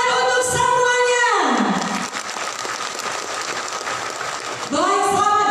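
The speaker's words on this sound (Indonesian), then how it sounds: "Beri tepuk tangan untuk semuanya." Brief applause from an audience at an official government launch event in Musi Banyuasin, a crackly spread of clapping between stretches of an amplified announcer's voice.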